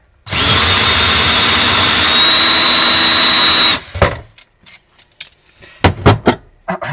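A powered case trimmer cuts brass while converting .223/5.56 cases to .300 Blackout, giving a loud, steady, near whine for about three and a half seconds, then stopping abruptly, followed by a few sharp clicks and knocks of handling.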